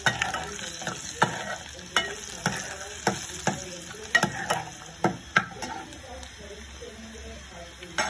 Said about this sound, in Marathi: आता आपण मालवणी मसाला ऍड करूया आणि छान त्याची मिक्सिंग करून घ्या.